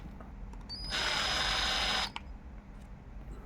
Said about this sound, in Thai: กดสว่านไม่ต้องกดเร็วมากนะครับค่อยๆกดกดช้าๆนะครับ